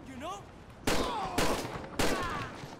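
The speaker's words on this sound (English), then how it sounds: "Dispatch, shots fired." Gunfire in the LSPDFR police mod for a video game: three sharp, loud shots at roughly half-second intervals, each with a short ringing tail, over a faint voice at the start.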